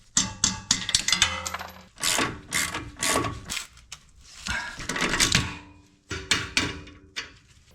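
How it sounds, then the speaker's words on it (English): A metal 16 mm pass-through socket dropping while working on a Volvo XC90 3.2, irregular metallic clatters, rattles and ratchet-like clicks in bursts, close and fairly loud. "that was the pass-through socket I use on the back, which was a 16 mm."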